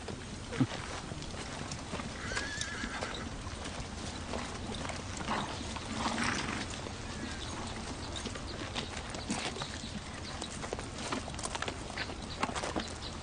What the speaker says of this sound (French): j'ai de très beaux chevaux russes